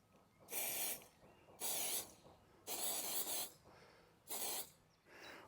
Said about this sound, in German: letztendlich gibt es dann noch ein Aktivatorspray. Das soll das Ganze noch mal schneller machen.